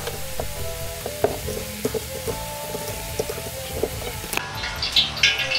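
Green beans fry in hot oil at around 170 degrees for a spicy beef and glass-noodle stir-fry, with a steady loud sizzle and crackle throughout, a few stirring clatters, and a brighter spattering burst near the end.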